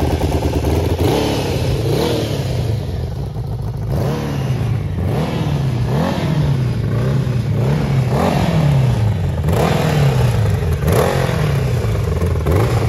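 Homemade crosskart buggy powered by a Honda CBR1000 motorcycle engine, revving hard while driving, with repeated rising and falling throttle sweeps through the gears, loud and close throughout.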